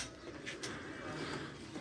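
Pigeons coming back to a rooftop loft during a summer racing flight, heard as a soft, steady wash of outdoor ambience with faint cooing and flutter, distant and low in level throughout.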